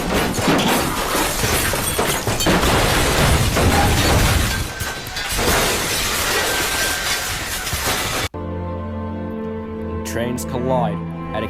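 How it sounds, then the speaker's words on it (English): A Via Rail passenger train and three CN locomotives collide head-on at Hinton at a combined 25 miles an hour, a long, loud roar of crashing and tearing metal that cuts off abruptly, followed by voices over music. "Trains collide at a combined speed of"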